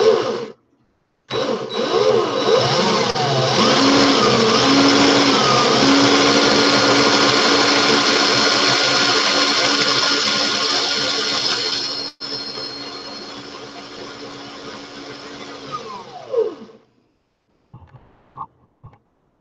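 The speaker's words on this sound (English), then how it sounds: "Gonna speed up my drill." An electric drill whirs loudly and continuously for about ten seconds, drops to a lower, softer run, then spins down and stops, leaving a few small clicks and taps.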